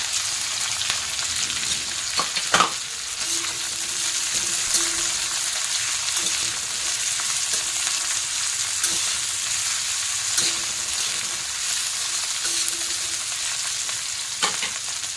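Green chillies sizzle and fry steadily in a pan with oil, stirred now and then with sharp scraping clicks, close and continuous, a crackling bed of frying throughout.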